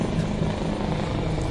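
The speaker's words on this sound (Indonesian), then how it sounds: "Tiba-tiba helikopter lalu ya." A helicopter flies overhead near Bukit Jalil National Stadium, its rotor and engine making a steady, loud, continuous drone with no talking.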